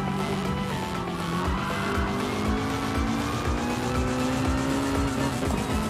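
A 1998 Honda Civic Type R (EK) in GT Sport runs off the Nürburgring course, its engine droning steadily while tires squeal and skid continuously at close range.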